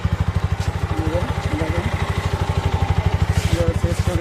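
A TVS Apache 4V motorcycle engine runs steadily at idle, its low rhythmic putter pulsing evenly throughout, close and fairly loud, with faint clatter on top.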